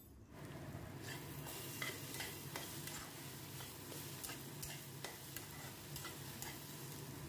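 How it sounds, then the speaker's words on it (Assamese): Pumpkin stir-frying with garam masala powder in a pan, a soft steady sizzle broken by repeated scraping stirs of a spoon, faint and close, with no talking. "গৰম মছলাৰ গুড়িখিনি দি এইখিনি পুনৰ মই আধা মিনিটমান লৰাই লৰাই ভাজি থাকিলোঁ"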